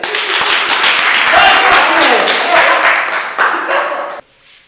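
Lively applause and clapping for Kitasa in a MEMKWA school classroom, dense and loud for about four seconds before cutting off abruptly, with voices mixed in.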